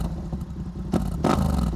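Yamaha R7 sport motorcycle engine at low idle with a deep, loping low-speed rumble, then two short throttle blips swelling louder up close, running through an aftermarket exhaust with a baffle.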